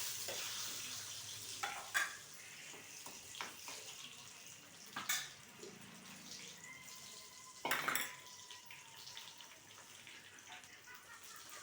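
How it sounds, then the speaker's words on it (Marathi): Onions hit hot oil in a pan while dum aloo is cooked, a steady broadband sizzle with a few louder clatters and scrapes of a utensil against the pan, no talking. "कांदे टाकून घेते मी"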